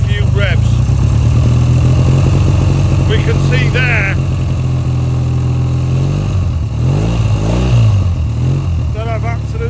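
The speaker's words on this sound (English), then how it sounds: "Let's give it a few revs." A Triumph T140 motorcycle engine revs in several bursts over a steady, loud idle, with someone talking throughout.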